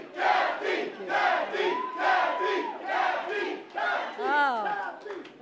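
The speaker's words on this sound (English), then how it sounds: "Oh, what an enthusiastic crowd we have here this morning" Enthusiastic morning crowd at a Governor Kathy Hochul event on New York workers, shouting and cheering in loud bursts with whoops and rising yells that repeat over several seconds.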